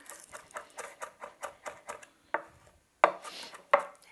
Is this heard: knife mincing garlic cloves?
yes